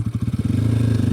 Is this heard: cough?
no